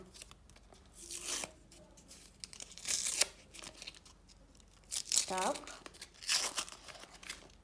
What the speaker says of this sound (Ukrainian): Ось такий у нас пакетик, і давайте, давайте його відкриємо